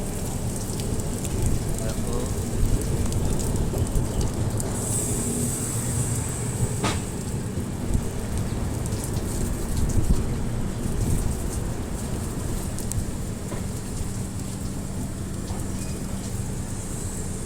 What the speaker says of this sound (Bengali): বৃষ্টির মাত্রা কিন্তু ধীরে ধীরে বাড়ছে,